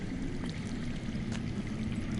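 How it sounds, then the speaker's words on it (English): Underground running water in a Game of Thrones video game, a faint, steady pouring rush with a low rumble beneath and a couple of soft splashes, heard alone. "I hear water. From underground."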